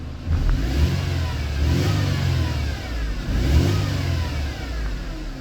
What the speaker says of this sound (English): Car revs and everything,